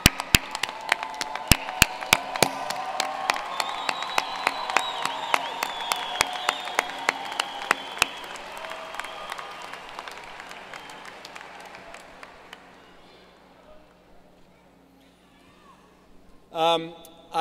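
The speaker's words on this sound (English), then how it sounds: "Let us salute them with our applause." Commencement audience applause at a University of Iowa ceremony, with sharp near claps over a broad crowd wash and cheering, fading after about twelve seconds to quiet room tone before a voice speaks.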